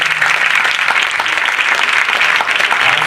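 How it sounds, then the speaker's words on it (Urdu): Loud, dense applause from an audience at a religious program, sustained evenly throughout with no pauses, close and filling the space. "زوردار تالیاں جائیں گے"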